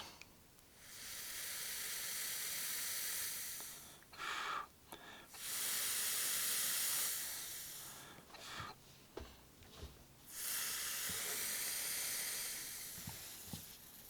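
A Noisy Cricket vape mod with a fresh coil build soaked in e-liquid fires in several long bursts, each a steady hiss and crackle lasting a few seconds, separated by brief pauses with faint clicks.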